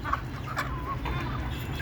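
Desi chickens raised commercially on a farm cluck in short, scattered calls over a steady low background hum, moderately close, with no talking.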